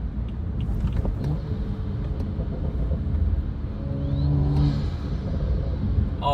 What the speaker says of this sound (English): Oh, we're getting all kinds of turbo noises now.